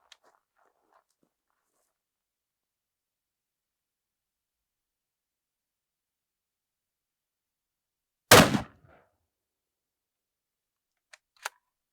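One loud, sharp .308 rifle shot, fired with hand-loaded MK319 Mod 0 bullets at body armour on an outdoor range, cracks out of near silence and decays quickly; faint clicks follow.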